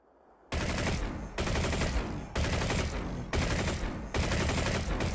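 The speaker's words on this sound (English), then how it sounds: "So here are just a couple of sample sounds of Vanu guns." Vanu faction laser weapons firing in Planetside 2: four sustained bursts of rapid, dense energy-rifle fire, each lasting about a second, loud and close with brief gaps between.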